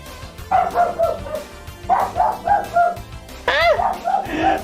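Paige the dog barks several times indoors, loud and close, with yips and a rising whine in between, while a person talks over part of it.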